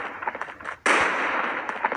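A grenade explodes in a video game deathmatch: after a patter of small clicks, a sudden loud burst of blast noise cuts in and rolls on, fading only slightly before the clip ends.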